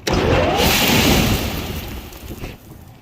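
An industrial space heater's replacement burner firing up, a loud whooshing roar that bursts in at once, then fades and settles into a lower rumble with a brief flutter near the end.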